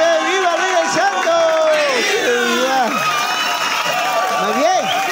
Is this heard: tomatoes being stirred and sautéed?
no